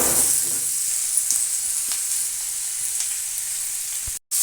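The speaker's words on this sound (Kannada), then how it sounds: "ಸ್ವಲ್ಪ ಫ್ರೈ ಮಾಡೋಣ ಒಂದು ಎರಡು ನಿಮಿಷ ಚೆನ್ನಾಗಿ ಫ್ರೈ ಮಾಡೋಣ ಇದು ಫ್ರೈ ಆಗ್ತಾ ಇದೆ" Raw mango pieces with fennel seeds fry in a hot pan, giving a steady loud sizzle with faint crackles throughout, cut off by a brief silence near the end.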